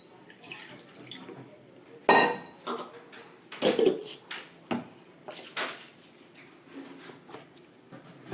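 Rinsing out a mixer grinder jar in a kitchen, with splashing water and several hard clunks and knocks of the jar against the sink, close and moderately loud, no talking.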